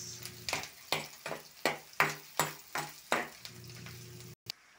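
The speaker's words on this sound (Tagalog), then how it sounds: "Ilalagay ko na po ang faba beans." Faba beans tipped into a hot frying pan with onions, giving a steady sizzle broken by about eight sharp, rhythmic scraping or stirring hits, close and moderately loud.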